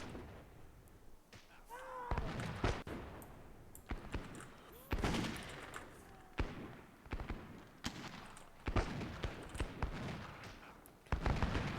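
Units in the game Myth II fire uphill into brick walls, producing a run of sharp, loud impacts and shots at irregular intervals, one after another, close and punchy.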